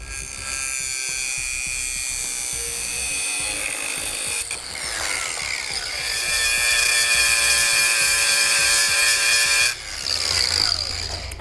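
A power tool saw grinds steadily through a metal stud on a 2016 vehicle during base plate installation, a loud, continuous buzzing cut that pauses briefly twice before resuming.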